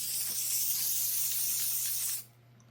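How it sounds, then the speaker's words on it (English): A steady aerosol spray of adhesive hisses continuously onto a paper plate for about two seconds, close and fairly loud, then cuts off abruptly. "spray a whole bunch of it on this paper plate"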